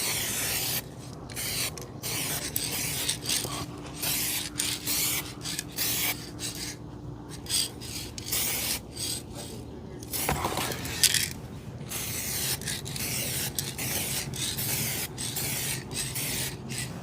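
A spray gun paints a car part in a series of bursts, each a dense airy hiss separated by short pauses, steady and close with no talk.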